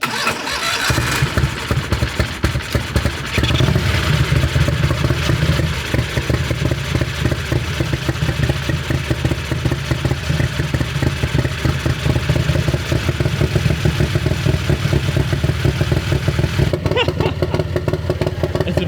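A Turbo 670 dragster engine running on methanol fires up after a short crank, then runs loud and close with a fast, rough, pulsing beat that cuts off near the end.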